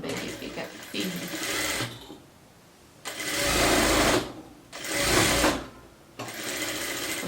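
A sewing machine stitches a blouse neckline, starting with a backstitch. Three loud, close bursts of rapid motor hum are broken by short pauses, with someone speaking Portuguese between and over the stitching.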